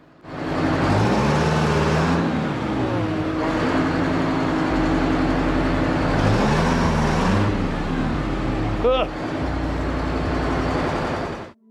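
A bus squeezes through a narrow rock corridor near Tung Khon National Park in Thailand, its engine droning steadily and loudly up close with rising and falling revs, a brief high squeal cutting in near the end.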